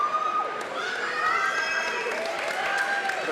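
A high school basketball crowd of super fans cheers and shouts in a gym, a broad roar with whoops and squeaky sneakers mixed in, sustained at steady volume.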